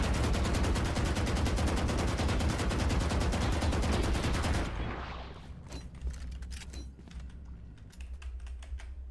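Rapid automatic gunfire in Valorant on the Ascent map, shooting through a pipe, a loud continuous stream of shots that stops abruptly and gives way to scattered clicks and fainter sounds.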